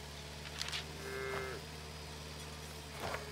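Cattle low and moo in the farming video game Farm Together 2, with several drawn-out calls rising and falling over a steady electronic hum, fairly quiet with no talk.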